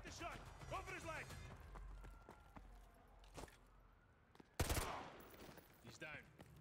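A single sharp gunshot cracks out loudly in Call of Duty: Modern Warfare 2, preceded by voices and a few softer impacts, with a brief echoing tail as the talk resumes.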